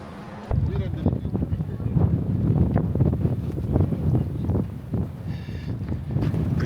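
Strong wind gusting across a hilltop in Turkey, a steady low roar buffeting the microphone with rumbling bursts throughout, loud and close, with a voice speaking underneath.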